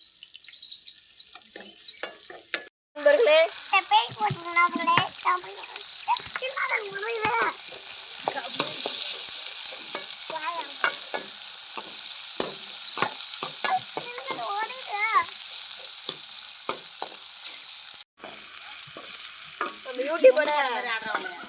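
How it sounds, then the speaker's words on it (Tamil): Onions sauté in a pan for crushed-crab rasam, a steady close sizzle with frequent scraping stirs throughout, while bird chirps come through in the background. "வெங்காயம் நல்லா வதங்குது."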